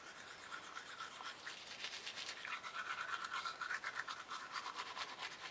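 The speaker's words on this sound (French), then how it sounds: "pendant 3 minutes, je vais me brosser les dents avec le dentifrice" Steady scrubbing of a toothbrush on teeth with black charcoal coconut toothpaste, a continuous close, wet rasping rhythm with no talking.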